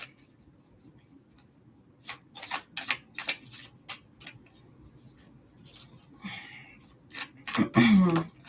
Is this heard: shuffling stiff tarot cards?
yes